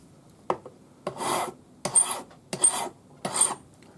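A Swiss number 2 cut flat hand file rasps across the end of half-hard wire, five short close strokes in an even rhythm with brief gaps between them.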